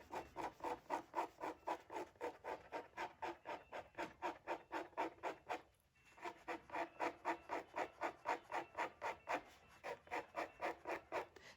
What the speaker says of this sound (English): So I can just start scraping.